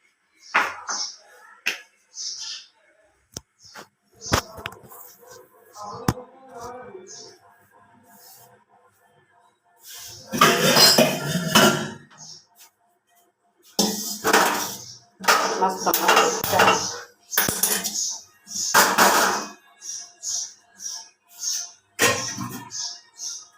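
Pots, dishes and utensils clink and clatter while tea is made in a home kitchen. The knocks come in irregular bursts, with louder clusters in the middle and end, and people talk now and then.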